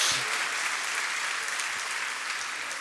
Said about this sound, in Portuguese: Pode dar uma salva de palmas ao Senhor, querido.